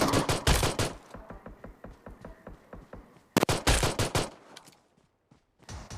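Gunfire in a battle video game comes as rapid automatic bursts, a dense volley followed by a steady string of evenly spaced shots, a second loud burst, then a brief quiet.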